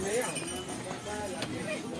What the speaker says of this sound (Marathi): घोडे पण लय आहेत, घोडे.